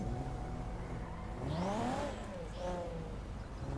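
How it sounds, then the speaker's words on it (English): A Nissan GT-R engine in the GTA V FiveM game revs and accelerates, its pitch rising through the gears in a steady, moderately loud whine with no talking. "Oh, your GTR sounds nice, man. Yeah, especially on the high rev."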